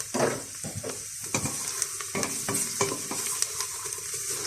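Onions and garlic cook down in a pot for a beef soup, a steady close sizzle punctuated by repeated knocks and scrapes of a spoon.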